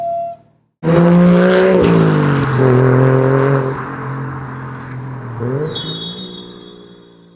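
A Toyota Crown Athlete with a 1JZ-GTE turbo engine and a temporarily fitted silencer revs loudly and close by, a short blip and then a sustained rising and falling roar with a second surge near the end.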